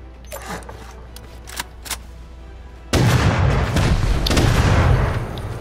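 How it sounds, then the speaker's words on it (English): Rocket explosions in the survival game Rust: a few sharp distant pops, then a sudden heavy blast that rolls into loud, sustained rumbling and debris noise. "They rocketed it. They rocketed me."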